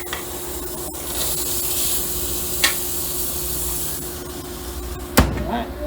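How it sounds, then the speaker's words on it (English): Steady hissing sizzle of a burger patty frying on a hot grill pan, with a couple of sharp clatters and a brief louder crackle near the end. "Just gonna lay it down here. Hear the sizzle."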